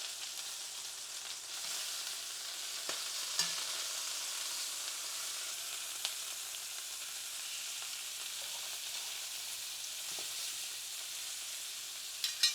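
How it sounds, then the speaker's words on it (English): Chicken sears and fries in a pan for smothered chicken, a steady close hiss of sizzling fat with faint pops and a few light utensil clicks, no voices. "We're just searing. We are not cooking all the way through, okay?"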